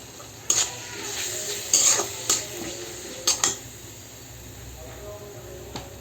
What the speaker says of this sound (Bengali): পেঁয়াজ, রসুন, জিরা বাটা দিয়ে ভালো করে কষিয়ে নিচ্ছি